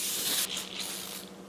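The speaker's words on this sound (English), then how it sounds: "Don't feel like getting out butter, so I have spray." Canola oil cooking spray hisses loudly into a lined pan in one steady close burst, briefly dipping partway through before continuing.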